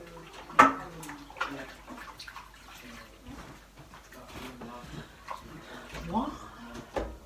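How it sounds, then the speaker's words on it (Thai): Dishes being washed at home under running water, a low, uneven splashing and clatter with a few louder knocks, heard beneath people talking nearby. "ช่วยย่าล้างจานกับเพื่อน"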